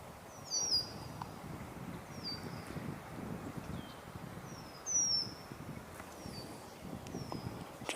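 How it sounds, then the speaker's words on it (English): A catbird gives several short, thin calls spaced apart, faint against a low background of wind and rustling outdoors. "Just heard a catbird."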